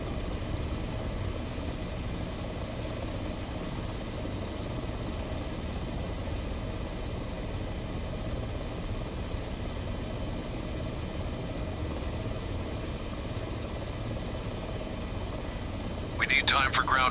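Twin-engine H145 helicopter turbines idling on the ground in Microsoft Flight Simulator, a steady even drone with no change in pitch, briefly topped by a short burst of higher sound near the end.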